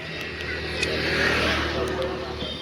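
A car pulls away onto a highway after refuelling, setting off on the return trip to Malegaon; steady engine and road rumble with broadband tyre and wind noise runs throughout, fairly close and continuous.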